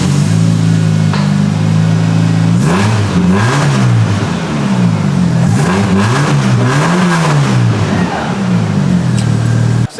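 A Chevrolet S-10 pickup engine with a speedy, smooth, drone-free muffler dumped revs loudly and close, idling rough then climbing through repeated throttle blips in a rising-falling pattern.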